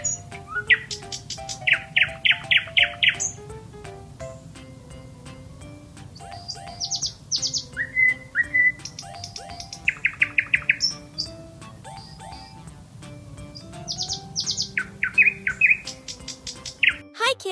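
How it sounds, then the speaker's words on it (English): A nightingale sings a varied, melodious night song of rapid trills, chirps and repeated whistled phrases coming in bursts with short pauses, loud and close over a faint low background hum. "I'm the nightingale. My melodious songs fill the night with magic and wonder"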